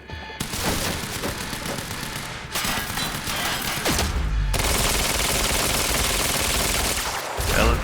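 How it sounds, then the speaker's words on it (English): A light machine gun in Quantum Break fires long, dense bursts of rapid shots that run almost without a break, loud and close, with heavier thumps mixed in. "He's got an LMG."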